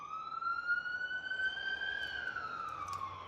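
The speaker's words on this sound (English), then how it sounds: "Take those sirens as confirmation." A police siren wails outside, one long rising and falling tone carried faintly from a distance beneath a quiet room.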